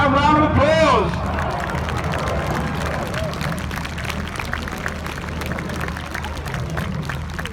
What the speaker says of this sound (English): give the synchro pair a round of applause